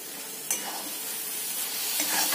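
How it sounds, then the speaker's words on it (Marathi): Carrot halwa with cardamom powder being stirred in a pan, a soft continuous scraping and gentle sizzle with a few louder strokes of the spoon. "छान असं मिक्स करून घ्या."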